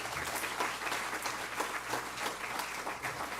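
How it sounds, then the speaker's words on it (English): An audience at a high school honors banquet gives a steady, sustained round of applause, dense clapping that holds evenly throughout and sounds somewhat distant in the room. "just a round of applause for everybody for making this possible"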